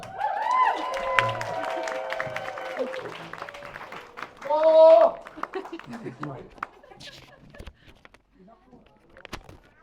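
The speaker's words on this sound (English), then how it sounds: "First up, we have the groom, David. Big round of applause." Wedding guests applaud and cheer for the groom at a reception, a short burst of clapping mixed with laughter and voices. The sound rises again briefly and fades into scattered chatter.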